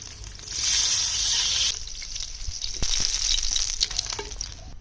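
Oil sizzling in a pan as egg korma gets underway, a steady hiss that swells loud for a couple of seconds, eases, then returns with scattered crackles and light clinks.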